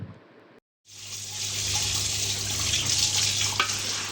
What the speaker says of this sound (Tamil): அலசும் போது சோப்பு போடாமல் இந்த மாதிரி அரிசி மாவு சேர்த்து அலசி எடுத்துக்கலாம்